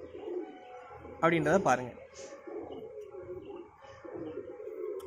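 A highflyer pigeon coos close by, a short bubbling burst of about a second, while someone talks over and around it.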